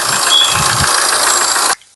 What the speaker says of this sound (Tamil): இன்ஜின் நாய்ஸ் பாருங்கன்னா பக்காவா இருக்கும்